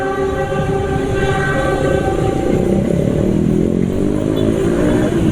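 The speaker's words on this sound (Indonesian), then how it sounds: "langsung suara mesin itu kasar" A loud, steady motorcycle engine drones at about 70 km/h with a harsh, buzzing roughness from poor-quality oil, continuous and close throughout.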